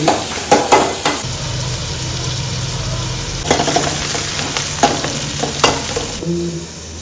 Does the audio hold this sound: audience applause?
no